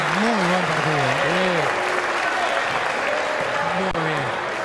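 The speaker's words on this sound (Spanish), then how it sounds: "aplauso para Andrés" Basketball crowd applauding a player during a Super Liga game between Defensor Sporting and Trouville, dense sustained clapping under a commentator's voice.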